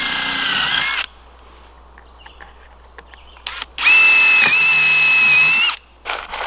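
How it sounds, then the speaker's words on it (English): A power drill whines in two loud bursts, the second with a steady high pitch as it pre-drills holes through PVC pipe, separated by quiet handling noises. "I'm gonna pre-drill the holes and then we'll screw them in place"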